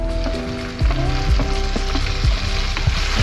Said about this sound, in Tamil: தக்காளி போட்டு தக்காளி நல்லா வதங்கட்டும்.